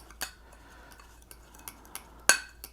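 A spoon clinks against a cup while stirring rehydrated freeze-dried milk, a handful of light, sharp taps spaced irregularly, close and quiet.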